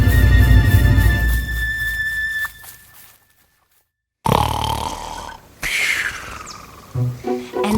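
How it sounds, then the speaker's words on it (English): A cartoon wolf snores loudly on the grass in a fairy-tale musical, with long wheezing, whistling breaths and a squealing exhale broken by a sudden silence, repeated several times up close. "And she found the wolf snoring on the grass."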